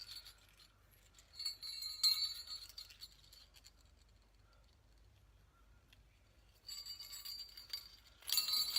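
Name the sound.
small bells jingling on twine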